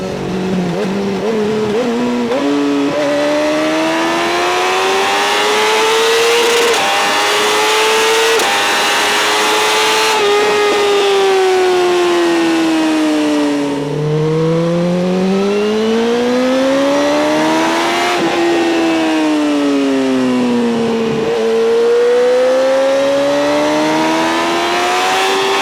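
A 2012 BMW S1000RR motorcycle accelerates hard through the gears with its quickshifter, the loud engine note climbing steeply and then dropping sharply with each quick shift, sustained close and alone throughout.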